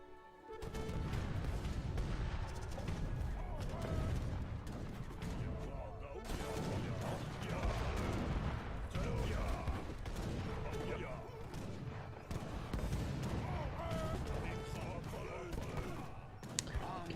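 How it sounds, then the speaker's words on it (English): Mortar and gunfire barrage in the strategy game NR40, a dense, continuous rumble of booms and shots, loud and steady throughout, with talk mixed underneath. "Dramos has mortars"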